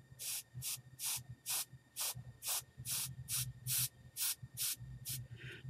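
A Copic airbrush sprays ink through a stencil onto a gesso journal page in about a dozen short, rhythmic hissing bursts, each roughly a third of a second long, close and fairly quiet with no voices.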